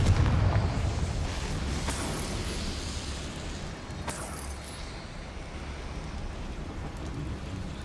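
A Confringo blasting spell in Hogwarts Legacy booms with a rumbling, thunder-like roar, broad and sustained, with a couple of sharper crackling bursts inside the rolling noise.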